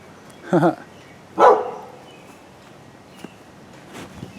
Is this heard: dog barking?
yes